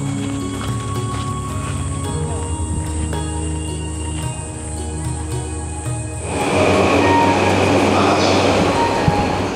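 A subway train on Tokyo's Shinjuku or Oedo line rumbles steadily with a faint high whine, then swells into a louder, broader roar of rushing motion near the end, with no talk over it.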